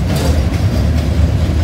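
A long freight train made up of over a hundred gondola cars rolls past in snow and ice, with a steady, loud rumble and rhythmic clickety-clack of wheels over rail joints, close by and continuous.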